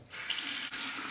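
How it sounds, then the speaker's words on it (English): Hot water gushes from a tap in a steady, hissing stream for about a second, close by and alone. "hot water rinse."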